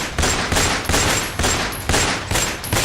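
Gunfire from a terrorist ambush on passenger vehicles in the Ochat area of Kurram, Pakistan: loud, rapid bursts of shots repeat in a steady rhythm about three times a second, with no voices.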